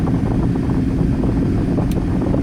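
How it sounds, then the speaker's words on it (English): A PT Cruiser engine runs during a test drive, giving a steady, loud, broad drone with rumbling road and wind noise throughout and no voices. "The engine sounds really good."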